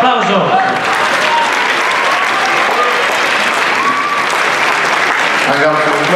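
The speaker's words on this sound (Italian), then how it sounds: "facciamo un applauso" Sustained applause from the audience at a team fencing final between Korea and Italy, steady and dense for about six seconds with a brief pause near the start, while a commentator's voice runs over it.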